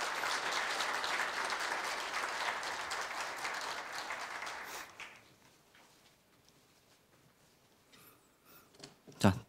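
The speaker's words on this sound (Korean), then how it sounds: "큰 박수 부탁드리겠습니다" Loud, sustained applause at a Korea University staff retirement ceremony during a commemorative photo with the university president, cutting off around five seconds in, followed by quiet room noise and a few brief knocks and rustles.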